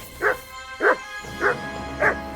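Dog barking in the medieval role-playing game Kingdom Come Deliverance II: four evenly spaced, mid-loud barks about half a second apart over a low steady game ambience.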